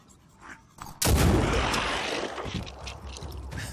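Shotgun fire in the Phoenix Point video game, a single loud close blast about a second in that decays into a long rumbling tail, with no talk.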